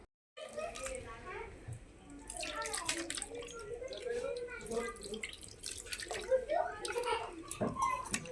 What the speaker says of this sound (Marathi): आता पाणी टाकून थोडंसं करायचं